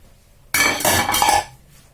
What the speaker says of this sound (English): At this stage I'm going to throw in the garlic that I cut up earlier.